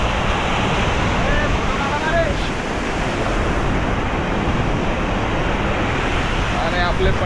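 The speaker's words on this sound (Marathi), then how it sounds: "एक छोटंसं धरण आहे आणि पाण्याचा स्पीड बघा कसा आहे" Fast water rushes over a small village dam, a steady, loud, broadband roar with wind buffeting the microphone throughout and no clear pauses.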